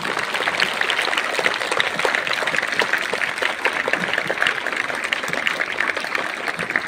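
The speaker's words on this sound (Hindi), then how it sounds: "जोरदार तालियां होनी चाहिए हमारे ग्रुप डी स्टाफ के लिए।" Loud, sustained applause from a school assembly crowd honoring support staff, dense continuous clapping of many hands filling the room evenly throughout, with no talk over it.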